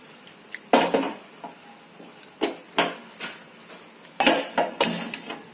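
Steel pot of milk set on a gas stove: a series of sharp metallic clanks and clinks, several separate knocks at close range with nobody talking.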